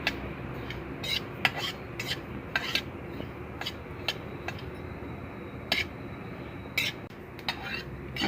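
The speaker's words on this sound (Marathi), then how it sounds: "तडतड आवाज येतोय." Flax seeds roasting dry in a wok over a medium flame give off scattered sharp crackles and pops at irregular intervals, standing out over a low steady background hiss.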